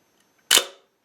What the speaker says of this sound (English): there's a shutter going off, and it seemed to synchronise all right